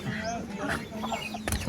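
Sonali fighter chickens clucking and calling close by in a yard, short irregular bird sounds over steady background noise, with a louder burst near the end.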